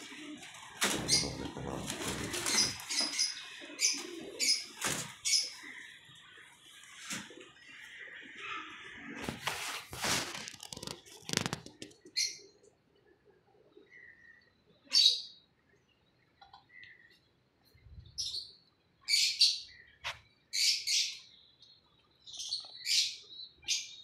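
Pigeons on a rooftop flap their wings in loud, close bursts and give chirps and calls, busy at first and then settling into scattered calls with pauses.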